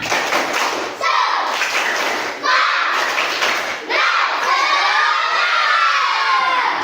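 Children in a classroom chant and shout together in rhythmic bursts for a cheerful clapping cheer, with bright overlapping young voices and occasional claps filling the room nearby.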